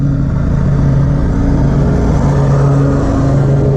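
A steady, loud lawn mower motor drone runs throughout, with a low engine hum and rattling mechanical clatter, cutting grass close by in January in The Villages, Florida.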